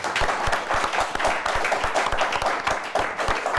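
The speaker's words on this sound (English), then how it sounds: "Let's give them a nice round of applause." Audience applause for a winning high school quiz team at a televised quiz competition, a dense patter of clapping hands that carries steadily through the clip at moderate loudness with no talk over it.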